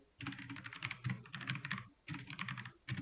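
Quick bursts of typing on a computer keyboard, close and fairly soft, with brief pauses between runs of keystrokes and no voices.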